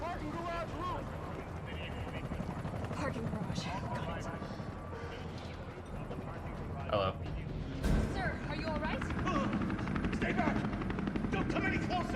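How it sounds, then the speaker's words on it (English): A helicopter in the Resident Evil 3 Remake video game gives a steady, loud rotor drone throughout, with dialogue and game effects over it and a sharp burst near the end. "There's a helicopter waiting to take you to safety."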